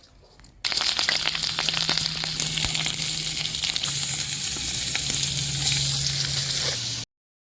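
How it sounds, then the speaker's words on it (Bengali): Fish (mam fish) frying on a traditional clay stove: a loud, steady sizzle that sets in abruptly and holds continuously, with crackles and spatter pops and a low hum beneath, then cuts off sharply. "এখন মাম মাছ ভাজি বসিয়ে দিল"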